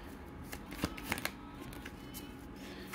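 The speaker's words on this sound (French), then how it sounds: "juste une carte" Soft, quiet riffling and shuffling of tarot cards, a steady papery rustle with a few sharper flicks, close up and with no voices.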